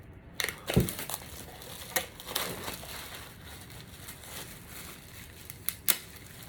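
Plastic film crackles and crinkles as it is peeled off a wooden board, with several sharp close crunches spread out over a quiet background.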